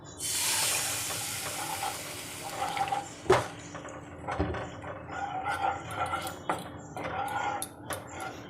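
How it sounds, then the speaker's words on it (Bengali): A little water poured into chili and cumin powder spice mix for katla fish curry, a brief hissing splash and sizzle in a pan followed by soft stirring scrapes and bubbling, close by. "সামান্য জল ঢেলে দেবো"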